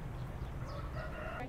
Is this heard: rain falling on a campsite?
no